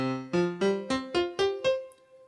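A KORG Gadget BS-16 synthesizer plays on an iPad: six evenly spaced, punchy plucked notes in a quick rhythm. The last note rings out and fades. It sounds close and clean, with no talking.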